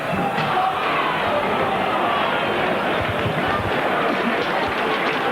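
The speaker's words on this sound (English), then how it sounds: "And that certainly brings the applause of this crowd who are still waiting patiently for the first try." Spectators at a 1987 Salford versus Dewsbury rugby league John Player Trophy match applaud, a broad steady wash of clapping and crowd noise filling the ground throughout.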